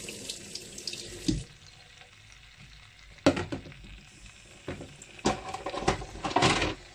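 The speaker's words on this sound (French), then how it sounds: "Donc je vais mettre un tout petit peu d'eau, pas beaucoup." Water runs in several bursts into a tajine of chicken, splashing and hissing against hot food in the pan, loud and close with pauses between pours.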